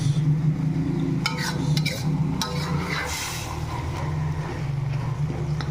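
Tomatoes and mushrooms cooking down in a pan give a steady, low sizzle with occasional scraping stirs, close by and continuous.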